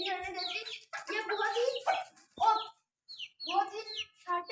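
A hen clucks in short, repeated bursts close by, with brief pauses between the calls.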